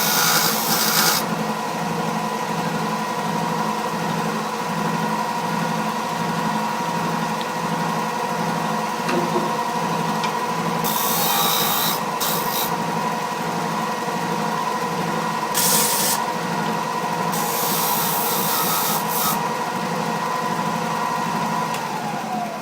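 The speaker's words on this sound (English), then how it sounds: "really even it off on the 6-inch disc on my sander here" A 6-inch disc sander runs with a steady motor hum throughout while a knife handle is pressed against it, giving periodic bursts of harsh, bright grinding hiss.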